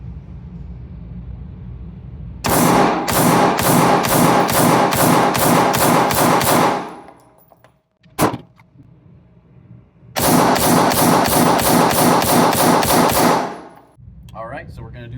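Springfield Prodigy Comp pistol fired in two rapid strings of about ten shots each, loud, sharp, evenly spaced reports separated by a pause with a single metallic clank.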